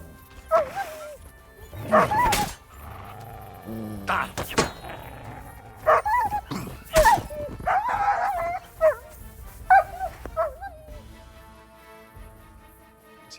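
Dogs bark repeatedly in Kingdom Come: Deliverance II, sharp yaps and whimpers arriving in clusters at mid distance, mixed with other game sounds and voices.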